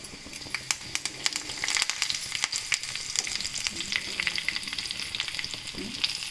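Urad dal, chana dal, mustard seeds and curry leaves with red chilli fry in hot oil for an Andhra-style cucumber chutney, giving a steady close sizzle dotted with sharp crackles and pops throughout, with no talking.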